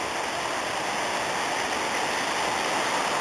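Waterfall on a steep mountain hike, heard as a dense, steady rushing roar of falling water that fills the whole clip without pause and with no voices.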